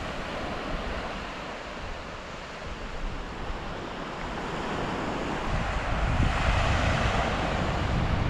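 Surf and wind on Byeonsan beach at low tide near sunset, a steady broad wash of waves with wind buffeting the microphone, growing slightly louder toward the end, no talking.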